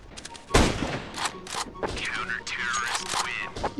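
Gunfire in Counter-Strike: Global Offensive, several sharp bursts of shots with weapon handling clicks, fairly loud and close, scattered across a few seconds.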